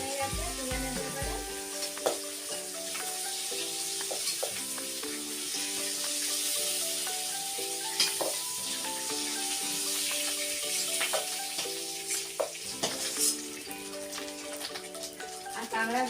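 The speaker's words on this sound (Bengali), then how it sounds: "একটু বেশি পরিমাণে আগে তেল দিয়ে কাঁকড়াগুলো ভাজছিলাম" Sea crabs frying in a generous amount of oil in a kadai, with a steady close sizzle and occasional stirring clatter running throughout, a music-like tonal layer underneath.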